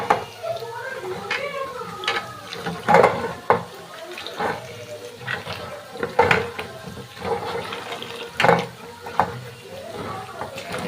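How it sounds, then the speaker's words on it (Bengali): Potatoes and pointed gourd being washed by hand in water, splashing, sloshing and dripping with knocks of vegetables against a bowl, close and continuous. "তো আলু পটলটা ভালো করে ধুয়ে নিই।"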